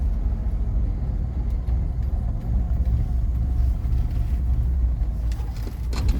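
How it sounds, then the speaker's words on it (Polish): Chrysler car that drove the Peking to Paris rally, heard from outside as it moves: a steady low engine rumble with road noise, fairly close and continuous, with no talk. "Chciałbym nagrać to auto w ruchu tak z zewnątrz"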